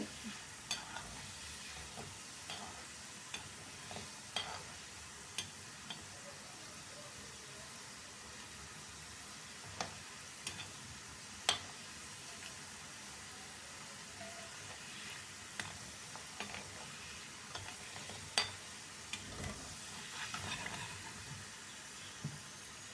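Salted seedai, small fried rice-flour balls, fry in hot oil with a faint, steady bubbling sizzle, punctuated by light clicks and taps of a ladle against the pan, with no voices.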